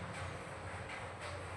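A train sound effect plays as a steady, rumbling rail roll with faint rhythmic clatter, continuous and fairly quiet throughout.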